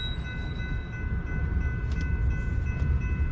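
Unbraked freight cars with disconnected air lines roll through a yard in a steady deep rumble that swells slightly, under a thin high-pitched metallic ringing. The sound runs on without a break and no one talks.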